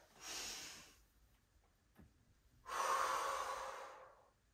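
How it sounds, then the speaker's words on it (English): Two long breaths during a prenatal Pilates exercise: a soft airy inhale, a pause, then a louder, fuller breath, close and alone without talk. "So inhale."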